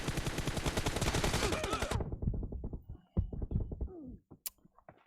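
Rapid gunfire from M24 and M4 rifles in a shooter video game, a dense burst of shots for about two seconds, then scattered single impacts and thuds trailing off.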